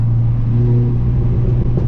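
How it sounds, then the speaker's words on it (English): A tuned stage 3 Audi S1 with a 400 bhp turbo engine pulls hard under acceleration, a loud close-up cabin drone with steady low engine harmonics and faint turbo hiss above, no speech. "But the hissing on this S1 is like insane."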